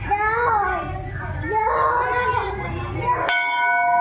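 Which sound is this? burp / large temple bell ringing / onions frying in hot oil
large temple bell ringing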